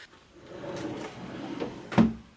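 A drawer of a ready-to-assemble vanity for an attic bathroom slides into place with a wooden scraping run, ending in a solid knock as it seats.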